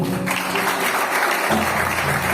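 A church congregation claps steadily, dense and sustained applause filling the space throughout, with a low murmur beneath it.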